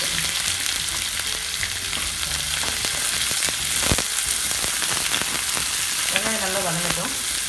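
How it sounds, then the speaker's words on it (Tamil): Small onions fry in a pan with cumin, mustard seeds and dried chillies, a loud continuous sizzle with crackling pops and a few stirring scrapes. A faint tonal chirp appears briefly near the end. "வெங்காயம் நல்லா வதங்கட்டும்."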